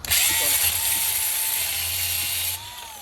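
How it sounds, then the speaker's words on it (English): A grinder runs loud and close with a steady high-pitched whine for about two and a half seconds, then winds down as it is switched off, during early restoration work by a first-time user. "This is my first time using a grinder."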